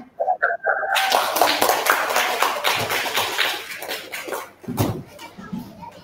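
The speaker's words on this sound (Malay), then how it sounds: "Tepuk tangan." A classroom of children claps their hands together in a burst of quick, overlapping claps that tapers off, with children's voices and chatter around it.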